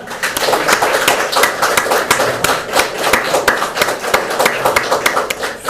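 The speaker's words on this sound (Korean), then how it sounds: "박수 한번 치실까요?" Audience members at a church faith retreat clap together in a loud, continuous burst of close, dense handclaps that holds steady throughout without speech over it.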